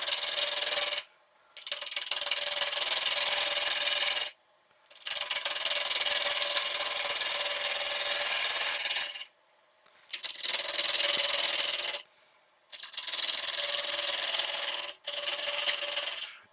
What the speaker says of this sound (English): I'm using my 1/2 inch spindle gouge at the moment.